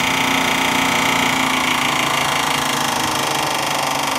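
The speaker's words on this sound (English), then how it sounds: "The disc's got a little bubble on it, so that's why you hear that." A workshop disc sander with a bubbled disc rubbing against its table runs with a steady buzzing drone and a rapid, repeating scraping flutter. It holds a constant loudness throughout, with no voices.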